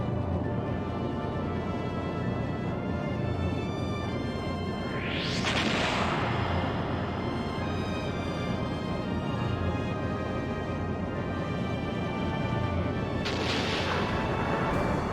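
Airship cannons fire in an aerial battle in Skies of Arcadia Legends, heavy booming blasts with rising whooshes over a constant dense roar, two sharper surges standing out.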